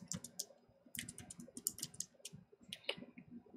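Keys clatter on a computer keyboard in quick, uneven bursts of crisp clicks with brief pauses, close up and fairly quiet, with no voices over the typing.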